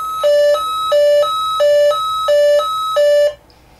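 An electronic start-of-play tone from an original Lazer Tag sensor repeats five times in an even, loud rhythm, each a bright two-pitch chime, then stops abruptly.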